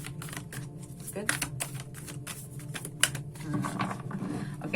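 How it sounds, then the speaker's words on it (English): A deck of tarot cards is shuffled by hand in a rapid run of papery riffles and flicks, close and crisp, while a voice murmurs quietly underneath. "it looks like we're gonna have to do some shuffling"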